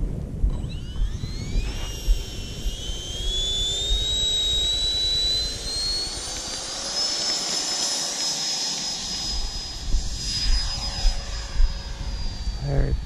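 Freewing F-22 Raptor 90mm electric ducted-fan RC jet taking off, a loud continuous whine rising steadily in pitch as the throttle comes up, with wind rumble throughout.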